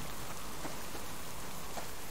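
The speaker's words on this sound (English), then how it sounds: "Oh, no rain, please. No rain." Rain falls in the survival video game Subsistence, a dense, even hiss of downpour that stays steady throughout without any voices.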